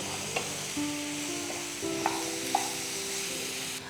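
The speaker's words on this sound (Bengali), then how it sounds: "আপাতত আমরা এটাকে আরেকটু ফ্রাই করব।" Vegetables and chicken frying together in a pan for a sweet vegetable chicken dish give a steady, close sizzle with occasional sharp clinks from stirring and faint sustained tones underneath.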